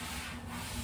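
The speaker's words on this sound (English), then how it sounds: "when you're sanding with a mechanical sander is you move about 1 inch per second" A mechanical sander works paint off wood with a steady, faint abrasive rubbing hum and no talk over it.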